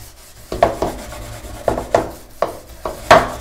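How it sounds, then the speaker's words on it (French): Vigorous scrubbing with a brush and homemade scouring cream made from black soap, heard as about seven short, close rasping strokes in an uneven back-and-forth rhythm. "On va frotter énergiquement avec une brosse."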